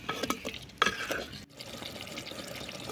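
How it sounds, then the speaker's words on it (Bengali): Chicken pieces for a dhaba-style palak chicken are stirred and cooked down in a pan, giving a close, wet sizzling with scraping stir strokes and no talking. "ভালো করে মাংসটা কষিয়ে নিয়ে"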